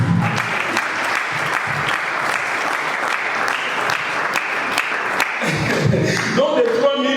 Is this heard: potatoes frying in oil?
no